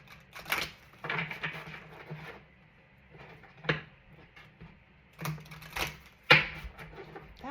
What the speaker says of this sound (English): I didn't mean to like crash the cards down.